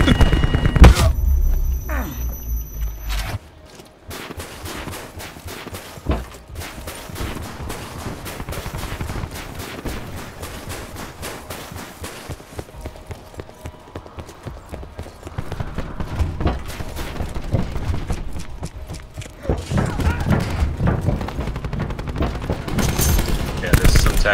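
Gunfire in the video game Call of Duty Black Ops 4 rattles in rapid bursts and single shots during a multiplayer deathmatch moshpit, loud and busy throughout, with players talking over it.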